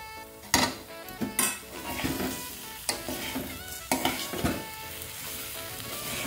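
Fried potatoes being stirred into a cooked spice masala in a pan, with a steady sizzle and repeated sharp scrapes and clinks of a spoon against the metal pan.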